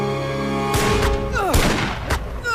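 Gunshots ring out in a Bengali movie scene, a few sharp, loud blasts scattered over a couple of seconds after a sustained musical tone, with no talk over them.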